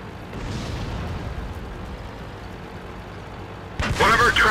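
Tank explosion in the World of Tanks video game: a steady low rumble of battle gives way to a sudden loud, close blast near the end.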